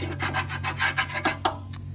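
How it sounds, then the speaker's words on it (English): A magnet rubbed and scraped through the drained steel oil pan of a 1927 Ford Roadster, giving a steady run of gritty, rasping strokes close to the mic over a low hum, easing off near the end. "while I have the pan off and the oil drained, I'm running a magnet through the pan"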